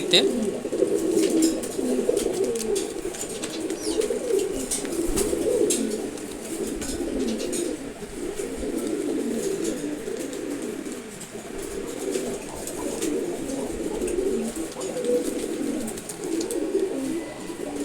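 Male pigeons cooing repeatedly in low, rolling phrases, close by and continuous, with some faint background chirps and noise.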